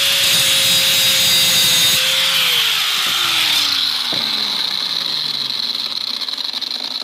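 A power saw or grinder cuts a small notch into a steel steering part on a budget off-road kart, a loud continuous whine whose pitch slowly drops as the blade bites in, with a brief clunk partway through.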